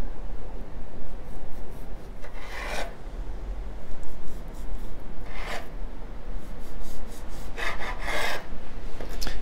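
A knife cuts through buttery Kouign Amann dough, laid out in portions for muffin moulds, giving a soft continuous rasping and scraping with a few brighter strokes, close and steady, with no talk.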